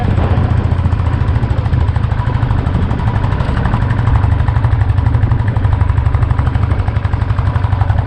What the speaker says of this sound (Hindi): बाइक चढ़ नहीं रही है लेकिन हम चढ़ा देंगे